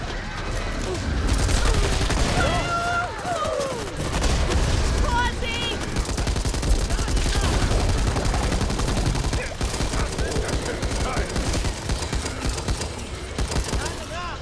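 Back 4 Blood gunfire against a zombie horde: dense, continuous rapid shots and crackling bursts pound close and loud for the whole stretch, with excited talking over the top and scattered creature cries and impacts in between.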